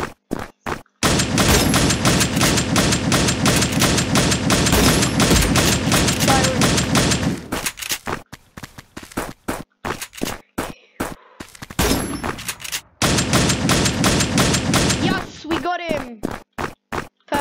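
Scoped assault rifle fire in the Build Royale.io video game sounds as rapid, loud bursts of gunshots in sustained runs, broken by short pauses and separate single shots, with a player talking between the bursts.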